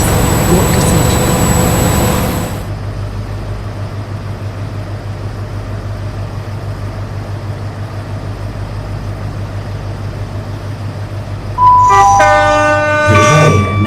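In the video game Project Transit, a Class 43 locomotive passes through a station: rail noise rumbles steadily with a rhythmic clatter, broken by bright tonal horn or chime sounds near the start and again at the end.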